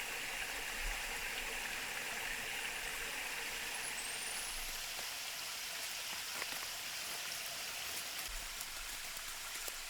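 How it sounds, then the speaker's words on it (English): Meat from a wild hog is washed under running water outdoors, giving a steady broadband rush of flowing water with no clear breaks. No voices are heard. "She washes them thoroughly in running water and cuts them apart"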